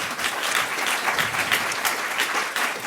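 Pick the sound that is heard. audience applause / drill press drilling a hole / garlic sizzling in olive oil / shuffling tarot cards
audience applause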